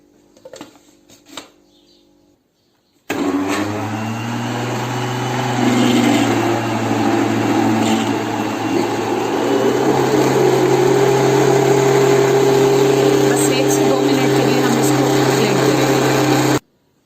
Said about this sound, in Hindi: इसको अब 1 से 2 मिनट के लिए हम दोबारा से ब्लेंड करेंगे